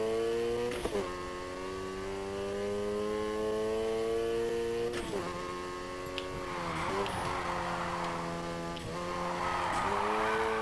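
Tires squeal while a car drifts in Need for Speed Heat, with a steady engine drone and shifting whines, plus a few sharp knocks along the way.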